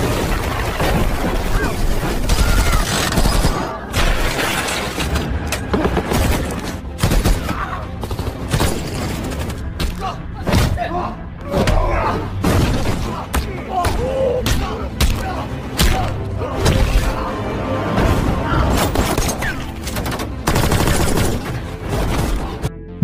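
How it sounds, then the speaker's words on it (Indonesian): Intense gunfire in an action film shootout involving a former soldier: rapid volleys of shots and heavy thuds packed closely together for over twenty seconds, with a voice narrating over the din. "Di tengah baku tembak tersebut,"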